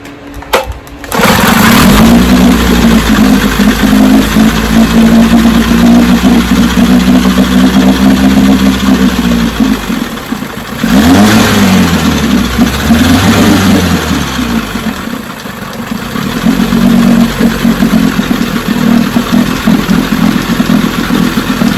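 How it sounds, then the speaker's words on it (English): An 18 HP Evinrude outboard motor starts on its rewind starter and runs steadily and loud, with a brief dip and revving near the middle before it settles back to a steady run. "I got the rewind starter on it now. Took off the electric start. Watch how she starts."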